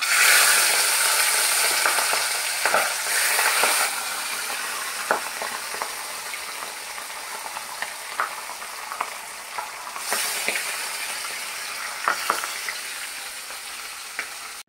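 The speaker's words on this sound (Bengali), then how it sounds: "এবার মাছগুলো একে একে আমি ফ্রাই করতে দেবো" Loud, steady sizzling of catla fish frying in hot oil in a wok, with occasional scraping and clinks of a utensil stirring in the pan; no voices.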